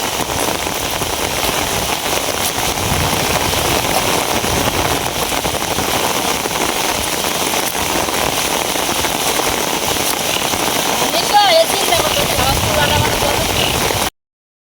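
Heavy rain pours down steadily and loudly, a dense, unbroken hiss of drops striking surfaces that holds without pause from start to finish.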